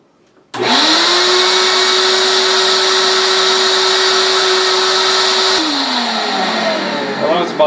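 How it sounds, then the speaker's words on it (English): A wall-mounted shop vac wet/dry vacuum, used without a hose in a laundry room, switches on abruptly and runs with a loud, steady whine, then spins down toward the end. "This is a shop vac hang-up that we bought along years ago for in the laundry room"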